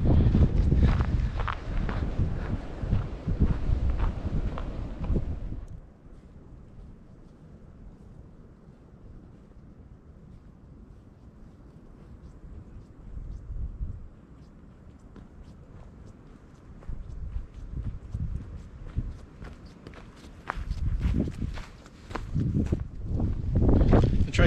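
Wind gusts buffet a low-held microphone on a muddy, icy hiking trail on a mountain preserve, loud and rough at the start and end with a quieter, steady rush in the middle.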